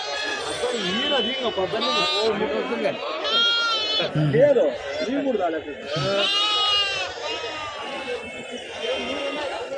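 Goats and young kids bleat repeatedly at a livestock market in Kadiri, several overlapping cries near and loud, with people chattering and a crowd murmuring underneath.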